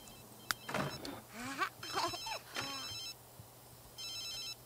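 Electronic telephone ring in The Sims 3, repeating trill bursts that come and go under faint game music and simlish chatter, a few seconds apart.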